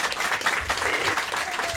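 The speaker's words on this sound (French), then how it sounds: "on applaudit l'arrivée de Titoff." A studio audience on a French TV show applauds a guest's arrival: steady, dense clapping that fills the whole moment at an even level, with no talk over it.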